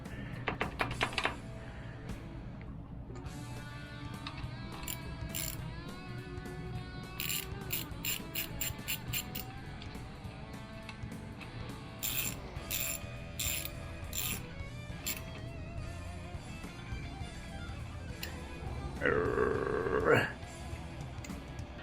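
A ratchet tightens the fuel tank bolts on a Honda Goldwing motorcycle, with bursts of rapid close clicking at intervals, quieter handling noises and some speech between them.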